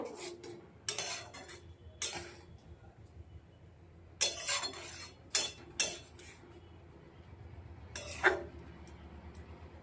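A spoon scrapes and clinks against a metal pot while boiling radish is turned over, several sharp metallic knocks and clatters in irregular bursts over a quiet bubbling background.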